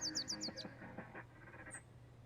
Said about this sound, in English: And then you hear the birds.